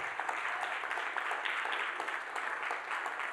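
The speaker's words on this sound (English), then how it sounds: "clap your hands" Church congregation clapping along at a sermon, a fairly quiet but steady patter of many hands with a loose rhythmic pulse, heard from a distance throughout the few seconds.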